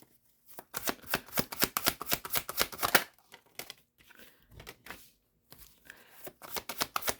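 Tarot cards being shuffled up close come in quick, crisp riffling bursts, with pauses and softer handling sounds as cards are pulled, and no talking.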